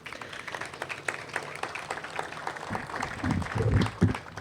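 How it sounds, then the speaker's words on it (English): A short burst of audience applause, scattered claps building louder toward the end, heard in a hall with some background murmur. "So again, a little clap there."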